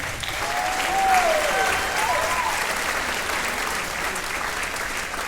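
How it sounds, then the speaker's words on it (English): An audience at a school spring concert applauds the concert band, a dense, steady clapping that fills the hall, with a voice briefly calling out over it. "Let's give another round of applause to Mr. Clute and the concert band."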